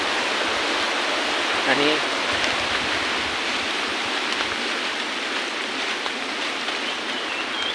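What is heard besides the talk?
river water flowing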